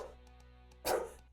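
A dog barks once, muffled and fairly distant, over a low steady hum in a room.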